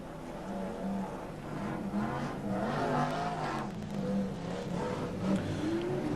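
BriSCA F1 stock cars racing round the Long Eaton oval, a steady distant roar of engines swelling and fading as cars pass, heard from afar at low level.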